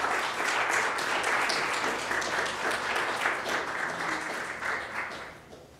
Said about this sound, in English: join me in giving a warm round of applause